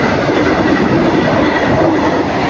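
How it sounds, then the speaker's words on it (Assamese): A train passes very close and loud, a dense continuous rumble and rattle of wheels on rails with no break, near a track in Bangalore. "চাই লওক আপোনালোকে ৰেলগাড়ীখন"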